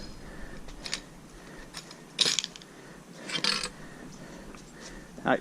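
Aluminum scrap pieces dropped onto a scrap pile, giving a few sharp metallic clanks and rattles at irregular intervals over quiet background, with the loudest clatter near the middle.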